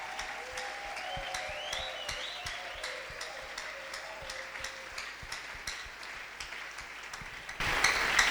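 A church congregation applauds to acclaim Jesus, a sustained crowd clapping with a steady patter that swells louder at the very end.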